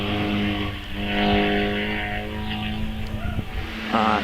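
A rally car on the Prescott hillclimb pulls away under a bridge and up toward Orchard, its engine note rising and holding as it climbs, fairly loud and fading a little with distance.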